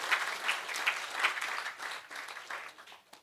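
Audience applause at an Indonesian business talk, a steady wash of clapping from a crowd with a few sharper bursts, lasting about three seconds before thinning out at the end.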